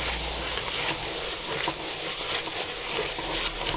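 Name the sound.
stirring cornflakes into melting marshmallow mixture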